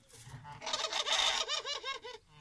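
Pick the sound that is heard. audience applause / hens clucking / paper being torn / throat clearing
hens clucking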